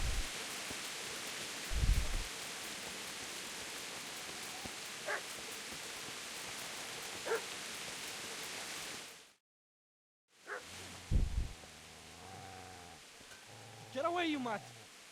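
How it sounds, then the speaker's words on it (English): A dog barks in the medieval open-world game Kingdom Come: Deliverance, with a few sharp barks over steady rain-like ambience, a brief dropout, then more barking and voices toward the end. "And mysteriously, a dog starts barking."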